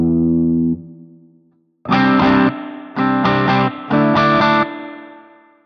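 Distorted electric guitar played through a virtual Soldano SLO 100 or Laney TF300 amp with reverb, a sustained chord fading out, then three loud chord stabs with reverberant tails, alone and without talk.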